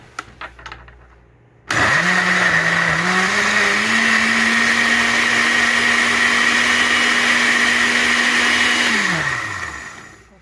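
A loud blender whirs to life after a couple of clicks, motor whining steadily for several seconds before spinning down.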